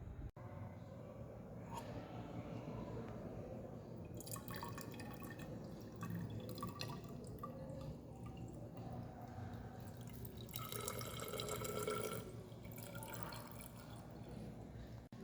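A water, salt and ethanol solution drains from a separating funnel into a graduated cylinder, giving a quiet, steady trickle with intermittent dripping and brief louder splashing bursts, fairly close and alone.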